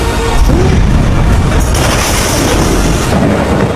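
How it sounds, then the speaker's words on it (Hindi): A massive explosion at the capital of Mithila produces a dense, loud, sustained roar that rumbles continuously from start to end with no distinct separate blasts. "और दुनिया दहलाने वाला महाधमाका।"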